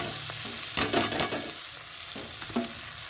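Chowmein tossed and stir-fried with egg in a hot pan, a close steady sizzle broken by a few scraping stirs of the spatula.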